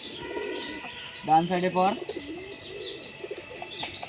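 Giribaz pigeons, including a male, coo nearby in a short burst of rolling, throaty calls, with chirps and a person talking quietly in the background.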